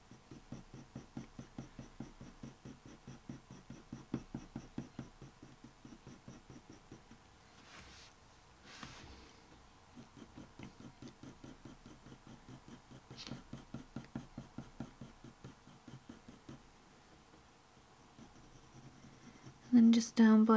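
Colored pencil shades fur strokes on paper as a steady run of soft, rhythmic scratching strokes, close and quiet. There is a short pause partway through and a louder knock near the end.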